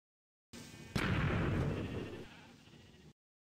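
Sheep in Minecraft bleating once, a short wavering blocky-game bleat that starts with a sharp hit and trails off, clear and alone against silence.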